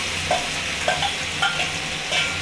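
Ivy gourd fries in a pan with onion and tomato, a steady sizzle broken by a few light clinks of a utensil stirring.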